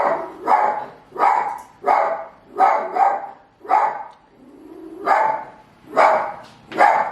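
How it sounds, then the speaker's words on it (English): A dog barks indoors in loud, evenly spaced single barks, about nine in a steady rhythm with short pauses between them, close and alone with no talking. "Ozzy will not stop barking."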